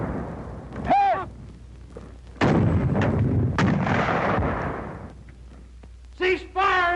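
A 37mm gun fires at a concrete target on a firing range, sharp heavy blasts booming close with rumbling decay, while voices shout commands between the shots.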